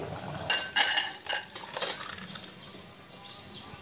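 Dal for a sweet-and-sour Odia dry-mango recipe being ladled from a pot into a bowl, with a few close metallic clinks and scrapes of the ladle against the vessel, then fading into quiet kitchen background.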